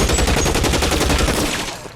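Rapid, dense gunfire from a firefight in the video game L.A. Noire, a continuous loud rattle of overlapping shots that fades slightly at the end.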